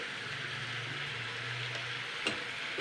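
Boiled potato slices stirred in a pan with Maggi masala give a steady, low frying sizzle with soft scraping and one brief clink near the end.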